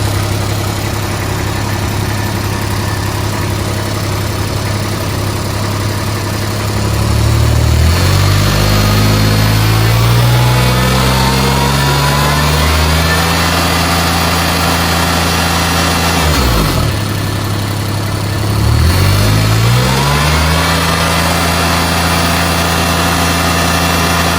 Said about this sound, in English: I'm just manually pulling that throttle linkage.